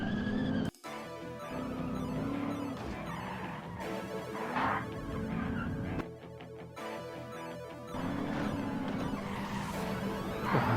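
Car in the BeamNG driving game skidding with its parking brake still engaged, a loud continuous scraping tire screech that runs nearly the whole time, broken by brief dropouts, with busy mechanical noise layered over it.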